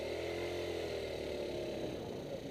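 A 2010 Tao Tao ATM50 A1 50cc ATV engine revs steadily and loudly for a few seconds, its buzzy drone building slowly as the throttle opens, with no talking over it.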